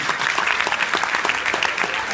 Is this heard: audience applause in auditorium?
yes